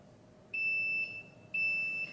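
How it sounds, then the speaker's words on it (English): A sublimation heat transfer press sounds two identical electronic beeps, each about half a second long and evenly spaced, clear and close over a quiet background hum. "When the time is finished, the machine will beep."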